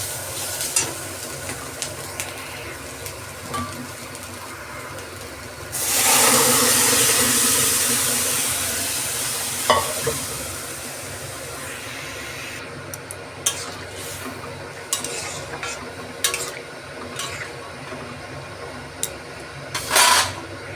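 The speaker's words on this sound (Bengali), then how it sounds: "এর মধ্যেও আমি সিদ্ধ করে রাখা ডালটা দিয়ে দিচ্ছি" A pan sizzles and crackles, then a loud burst of hissing as boiled lentils are poured in, followed by scraping stirs and clinks.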